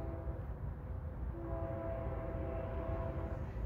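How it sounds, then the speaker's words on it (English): A train passing at a distance, a low continuous rumble with faint sustained horn-like tones rising in the middle, quiet and heard without any voices. "Here comes the train."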